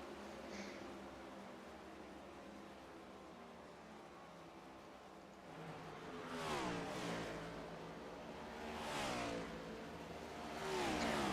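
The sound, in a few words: race car engine noises in a racing video game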